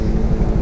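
An airplane passes overhead, giving a loud, brief low engine drone with a steady rumble and no voices.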